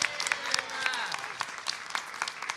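At a care economy press conference, a small crowd gives brief applause, scattered claps rising and fading over a few seconds, with voices audible in the background.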